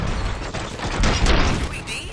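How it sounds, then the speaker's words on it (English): Gunfire in the RoboCop Rogue City video game: dense, continuous bursts of shots and booms with mechanical clatter, loud and up close, running without a break under a busy mix. "Gunshots?"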